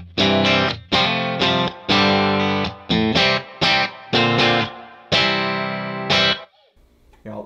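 Electric guitar played through a Kemper Tweed Twin amp profile with no compressor, a series of loud strummed chords with sustained decays in an uneven rhythm, close and clear, fading out near the end.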